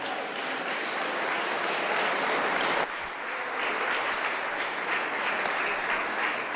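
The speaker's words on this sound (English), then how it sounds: "keep clapping up for Jill" Audience at the 2024 Chicago Investor Conference applauds loudly and steadily, with a dense, sustained clapping that briefly dips midway then continues at full strength, no speech over it.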